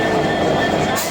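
A newly launched train with locomotive number 6636 in Bangladesh, at the start of its first journey, gives a loud, steady, close railway rumble with broad hiss that holds level through the moment.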